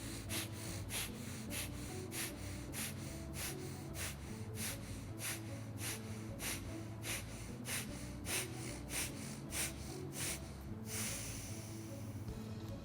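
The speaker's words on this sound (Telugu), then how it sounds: "నేను శ్వాసని తీసుకుంటున్నాను, వదులుతున్నాను." Bhastrika pranayama breathing practiced with a yoga danda: forceful nasal inhales and exhales pump in a fast, even rhythm, close and clear, repeating over a dozen times before easing off.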